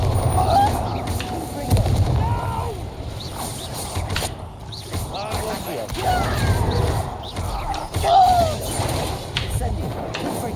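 Repeated Confringo blasting spells in Hogwarts Legacy crackle and burst over several seconds amid busy combat noise, with a spoken voice and shouts mixed in throughout.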